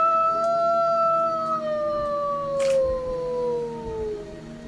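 A long, wavering dog howl rises and slowly slides downward during a Thai Jataka tale storytelling contest for primary pupils. It is steady and clear, with no talking over it.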